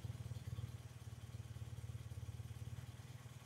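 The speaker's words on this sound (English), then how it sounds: "I have engine running." A BMW Airhead motorcycle engine idles low and steady with an even, pulsing beat and light mechanical clatter, fairly faint and with no talking.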